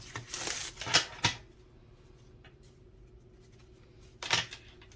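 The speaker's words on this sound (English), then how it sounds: "some of these are equally difficult to shuffle" Small, very thin cardstock cards being shuffled, with a burst of riffling and flicking in the first second and a half, a quiet stretch, then one more short shuffle near the end, close and fairly soft.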